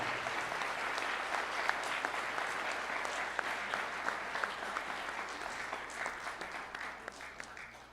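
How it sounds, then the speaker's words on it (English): Sustained applause from an audience for a high school concert band, steady dense clapping that holds for several seconds with no talking. "how about one more round of applause for the concert band?"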